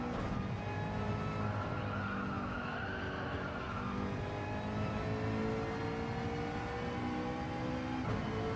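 A race car in Gran Turismo 7 brakes too late and skids, its tires squealing over a steady engine drone. The sound is continuous and fairly loud, with no talking.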